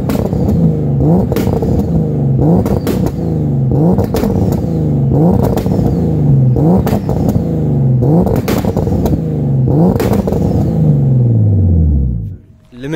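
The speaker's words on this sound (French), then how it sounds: "Je vais aller faire un petit tour dans le coin pour voir comment la voiture se comporte" A 470 hp turbocharged BMW E36 drives and revs hard, engine rising in repeated rhythmic surges about every second with loud rumble and turbo whoosh, then winds down and fades near the end.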